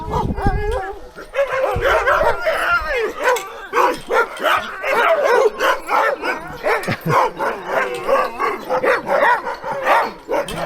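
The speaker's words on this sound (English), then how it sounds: "So many dogs." Many dogs bark and yip excitedly at once, close and loud, a continuous overlapping chorus with some whimpering mixed in.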